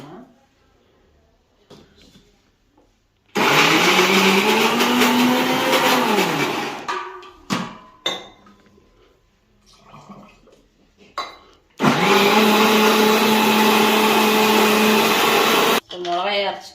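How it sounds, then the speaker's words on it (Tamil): A kitchen mixer grinder whirs loudly while grinding dried chili spice mix with turmeric, two long bursts of high-speed motor roar separated by clattering jar handling and brief quiet, with speech in between. "மிளகாய் செலவு அரைச்சிட்டோம்"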